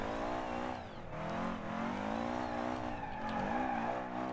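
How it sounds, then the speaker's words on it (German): A car in BeamNG Drive reverses out with its engine revving and whining through wavering pitch changes, accompanied by tire scrub and skidding, steady and fairly close throughout. "Wir fahren halt rückwärts raus."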